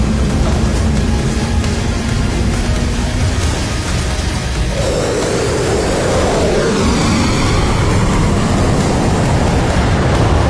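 A military jet roars loud and steady as it taxis out for takeoff, with a broad engine rumble and a shift in tone partway through, alone with no voices.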